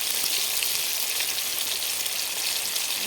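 Potato gravy for aloo dum sizzles loudly in a pan as turmeric powder and other spices go in, a steady, dense, hissing crackle close by without pause.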